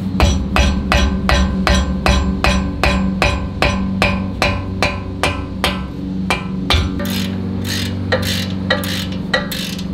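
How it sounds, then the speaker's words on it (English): Mallet striking a breaker bar on a brake caliper bolt of an Audi B9 S4, a steady series of sharp metallic blows at close range, repeated about twice a second throughout. "My suggestion is get this on the back there and then hit it with a mallet."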